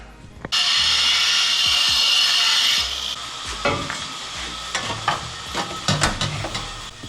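A loud, harsh burst of metal grinding lasts about two seconds, then gives way to scattered clanks and knocks of metal being handled.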